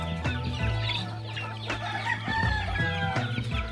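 Free-range chickens on a farm cluck steadily close by, with a rooster crowing through the middle of the clip over a constant low hum.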